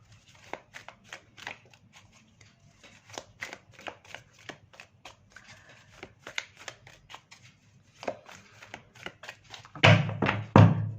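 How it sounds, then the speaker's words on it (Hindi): Tarot cards are shuffled by hand up close, a run of quick papery riffles and light taps, ending in a louder, denser flurry of shuffling. "नाउ आई फील कंप्लीटेड कि शफलिंग कंप्लीट हो गई है।"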